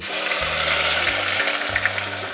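Garlic fries in hot oil for chicken khichdi, a loud steady sizzle heard close up over a low humming drone, with no speech.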